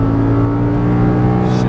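Audi R8 V10 engine accelerating hard on a track, a loud, steady, close drone with strong low harmonics throughout.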